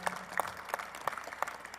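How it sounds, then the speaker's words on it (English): Applause for WNBA athletes at a public event, a small crowd clapping with distinct separate claps in an uneven rhythm, moderately near. "Let's give them a super round of applause."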